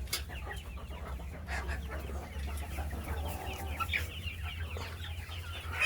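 Australorp hens cluck softly on a poultry farm, a low, continuous murmur of scattered clucks over a steady hum with no talking.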